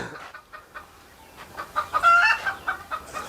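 Chickens clucking on a small home poultry farm, a run of soft, irregular clucks that grows busier and louder, heard close and alone.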